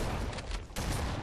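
Enemy shotgun fire in Halo: Combat Evolved, heavy blasts in a continuous dense barrage with a brief dip in the middle, loud and close.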